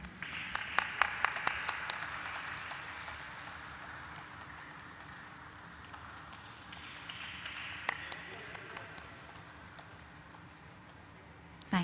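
Faint, sparse clapping from a small audience at a stock-exchange listing ceremony, a scattering of hand claps that thins out and lingers quietly in a large room.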